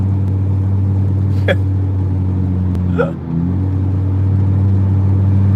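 A car engine hums steadily at low pitch while driving, with a couple of brief sharp noises over the constant road rumble.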